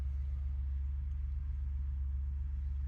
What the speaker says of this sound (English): we'll go ahead and start the vehicle for the first time